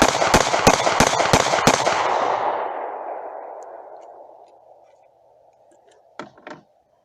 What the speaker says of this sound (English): now he's gonna shoot the 9mm